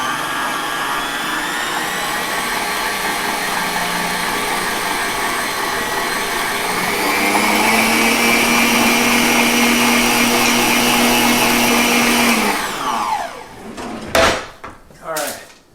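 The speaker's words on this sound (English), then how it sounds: "I'm going to mix it slowly so I don't get that cloud of dust like I did the last time." Electric hand mixer running steadily at low speed through keto strawberry bread batter, a loud continuous whir that rises slightly in pitch midway, then stops with clattering handling noises.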